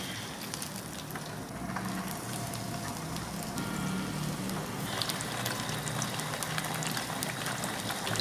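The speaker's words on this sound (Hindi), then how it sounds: "अब बाकी की फिश भी फ्राई कर लें।" Fish pieces shallow frying in hot oil, a steady bubbling sizzle with fine crackles, close and continuous with no talking.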